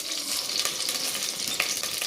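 Mustard seeds spluttering and crackling in hot oil in a home kitchen pan, a dense continuous sizzle with sharp pops scattered throughout, steady and close, with no talking.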